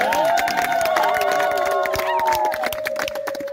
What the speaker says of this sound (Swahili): Ngeza vigelegele kwa Yesu.